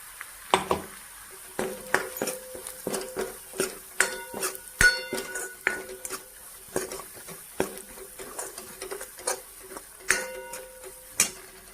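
A paste of dried coconut, ginger and garlic sautéed in a pan for a mung bean dish, with repeated sharp scraping and clinking of a spoon against the metal, steady and close, with no talk.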